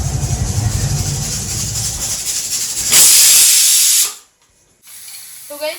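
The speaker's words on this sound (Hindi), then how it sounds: "तो अभी छोले उबल रहे हैं" Chickpeas boiling in a kitchen, with a low bubbling rumble, then a loud, close burst of steam hissing for about a second before it cuts off abruptly.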